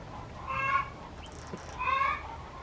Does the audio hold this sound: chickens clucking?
yes